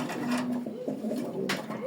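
Racing pigeons coo in a close, continuous low warble with rising and falling throaty notes, and a voice is faintly in the background.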